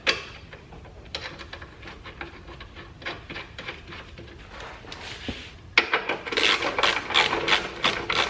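Ratchet wrench tightening chassis brace bolts on a car, rapid clicking strokes in repeated bursts, close by, with a louder, faster run of clicks toward the end.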